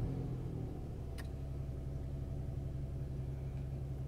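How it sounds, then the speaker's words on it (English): A Lincoln MKT with a lean fault on both banks idles with a steady low engine rumble that holds even throughout, fairly faint and heard alone, with one brief click partway through. "Now I'm gonna start the engine."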